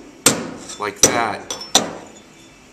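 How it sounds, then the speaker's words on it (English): A body spoon slaps sheet metal during dent repair while the panel is held under tension: three sharp, ringing metallic smacks roughly a second apart, close by, with someone briefly speaking between them. "I'm taking my spoon here and slapping around here"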